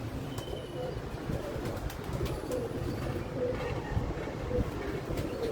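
Pigeons cooing in a loft, soft low repeated coos under a busy rustling background with faint scattered clicks, and a distant rumble running throughout.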